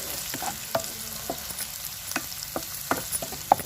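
Curry leaves with crushed ginger and garlic fry in hot oil for a poha tempering, a soft steady sizzle broken by sharp pops and the occasional scrape of stirring, with no voices.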